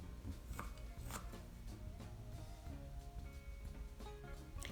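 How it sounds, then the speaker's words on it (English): A knife finely minces shallot onions on a cutting board, giving quiet, quick repeated taps in an irregular rhythm over soft background noise. "I'm going to finely mince my shallot onions"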